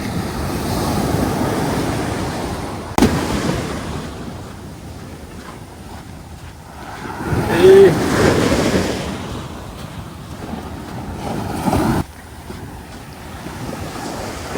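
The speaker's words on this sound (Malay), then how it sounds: "Nak lalu sana ombak kuat pula." Strong ocean waves on a thick sandy beach, a loud continuous roar of surf with heavy wind buffeting the microphone, swelling and easing over several seconds with a few sharp gusts.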